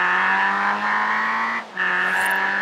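Toyota AE86 Trueno driving on a highway in a video game, its engine holding a steady high buzzing drone close up, with a brief dip in level partway through as if shifting gears.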